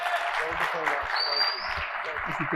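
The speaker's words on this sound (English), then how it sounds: "Round of applause again." Conference audience applauding, a steady dense patter of clapping that fills the whole stretch at moderate loudness, with a faint voice briefly underneath.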